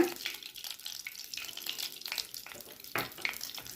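Cumin seeds fry in hot ghee in a pan, giving a steady, close crackling sizzle with brief louder spits and a short surge of bubbling near the end. No voices are heard.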